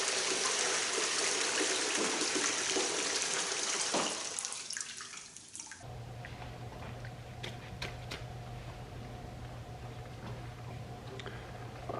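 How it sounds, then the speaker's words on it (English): Water runs steadily through a mini stream sluice during gold panning of clay-rich paydirt, a broad rushing wash that drops lower and steadier midway, with no voices. "Just letting the sluice exchange a little bit before I shut it off"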